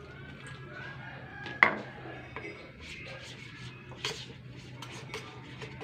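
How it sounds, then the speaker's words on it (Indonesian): A spoon stirs a batter of flour, sago flour and water in a bowl for coating eggplant, giving soft, quiet scraping and rubbing sounds with a few sharper clinks against the bowl. "ini proses mengadukannya"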